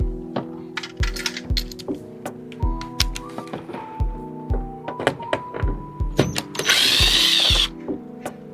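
T25 Torx screws are worked out of a BMW Z4 E85/E86 door card with a power driver, giving short repeated whirring bursts and small metallic clicks and clinks nearby, then one longer buzzing run near the end.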